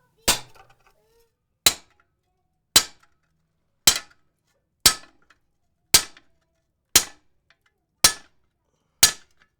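Hammer blows on a cut through wrought iron over an anvil topped with a soft steel plate, nine sharp ringing metallic strikes at an even pace of about one per second, each decaying quickly, with no talking.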